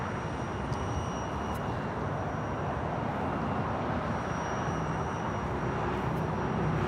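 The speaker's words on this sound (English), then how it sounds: "we have DHL 777 freighter coming in from Nagoya" A DHL Boeing 777 freighter arrives at LAX from Nagoya, its jet engines a steady, broad roar that holds evenly throughout, with no voices over it.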